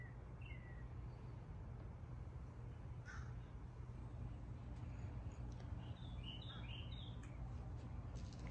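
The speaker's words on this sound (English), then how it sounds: "Can you hear the birds in the background?" Faint crows caw and small birds chirp now and then from a distance in a backyard, over a steady low outdoor hum.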